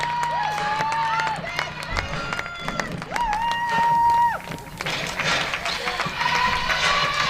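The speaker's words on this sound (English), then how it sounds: "Let's keep the applause going right to the middle of the pitch and line up." Stadium crowd applauding and cheering at a women's EuroHockey Championship game in Glasgow as the Czech Republic and Austria teams walk onto the pitch, steady and loud, with whistle-like tones and a voice talking over the crowd.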